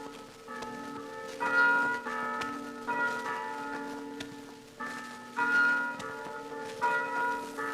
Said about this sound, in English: Oh, what beautiful chimes. They sound like the mission bells in California.